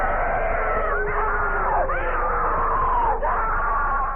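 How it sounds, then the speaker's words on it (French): Horror-style screams and wails, loud and continuous, with long drawn-out moaning cries that rise and fall in pitch over a sustained backdrop. "la musique est remplacée par des pleurs et des lamentations qui se transforment en horribles et incessants hurlements de terreur"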